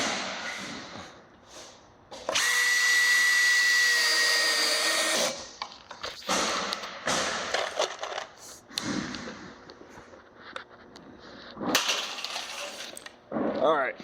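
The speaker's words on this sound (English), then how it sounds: "we're going to run all of our field screws all the way up" A power drill drives field screws into classic rib metal roof panels on a Tuff Shed, with one loud sustained whirring run of a few seconds followed by shorter bursts and clanks of metal.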